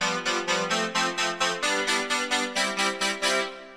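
A Korg multi/poly synth patch imitating piano, struck hard on its velocity layers, sounds aggressive and nasal as a run of about fourteen rapid, evenly spaced bright notes plays alone, up close.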